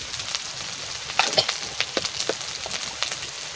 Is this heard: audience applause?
no